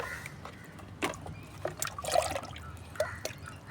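Homemade liquid fertilizer made from onion peel, garlic peel, rice-wash water and dal-wash water is poured into water for roses. The quiet trickling and dribbling comes with a few soft splashes and drips, with no talk.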